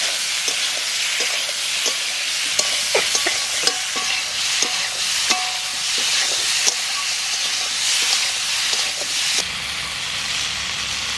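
A ground paste of cumin, coriander and dried chilli sizzles in a hot pan in a village kitchen, hissing steadily while a utensil scrapes and stirs it in repeated close strokes, with no talk.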